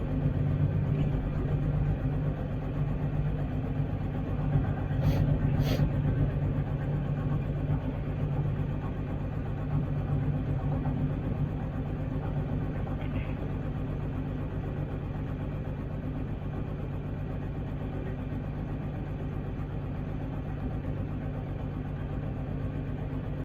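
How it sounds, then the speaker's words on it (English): A farm tractor idles in neutral during corn and soybean planting, a steady low mechanical rumble that holds level throughout with no revving and no voices. "And I always leave my tractor in neutral."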